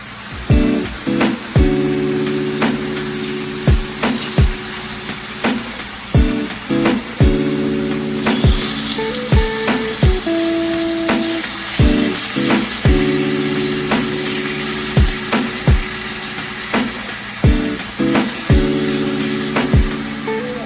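Steak pieces searing in a hot pan for pepper steak, a loud continuous sizzle broken by repeated sharp clicks and scrapes, close up with no talking.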